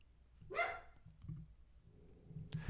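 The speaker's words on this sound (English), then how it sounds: "continues with the barking" A dog barks once, fairly close and loud, with a bright harmonic yelp; quieter rustling and a sharp thump follow, and no one speaks.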